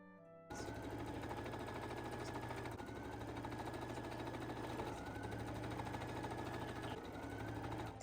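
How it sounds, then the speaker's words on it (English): A sewing machine starts up and stitches fabric pieces together for the upper of a costume boot, a steady close rapid mechanical whirr and clatter that runs without pause. "I assemble the upper portion of the boot by sewing these three pieces together"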